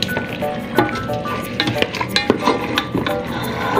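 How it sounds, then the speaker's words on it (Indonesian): Chicken sizzles in a pan as it cooks for nasi goreng, with a steady frying hiss and repeated scraping strokes of a spatula stirring it, close and continuous with no talking. "kita masak sampai ayamnya itu mateng"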